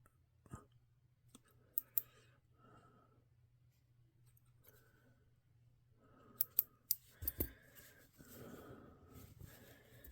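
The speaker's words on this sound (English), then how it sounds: "be careful with your scissors so you don't cut anything off of the outfit" Scissors snip at the outfit of a GI Joe action figure, with sparse close clicks and sharp cuts in an otherwise quiet room and a faint steady hum underneath.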